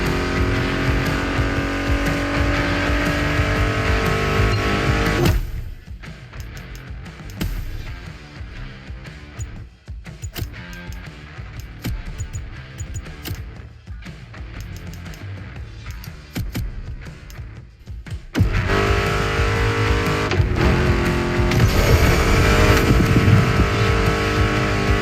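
American muscle car engines in The Crew Motorfest, loud continuous roaring and revving with shifting pitch, dropping away to a quieter stretch under music before surging back to full throttle.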